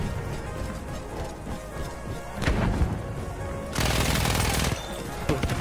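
Battlefield 1 gunfire: sustained rapid bursts and rattling shots, with a louder crashing volley midway and dense close automatic fire near the end, over a constant battle din.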